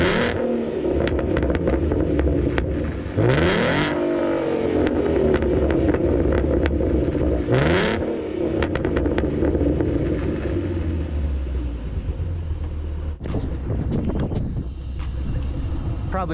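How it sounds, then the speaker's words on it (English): A Ford Mustang 3.7-liter V6 engine revs repeatedly through its exhaust, rising and falling in pitch over a constant low rumble, loud and close. "I'll give you guys some exhaust revs real quick."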